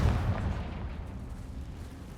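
In the Hogwarts Legacy video game a Confringo fire spell lets off a short low blast at the outset, then a fading rumbling tail; no talking.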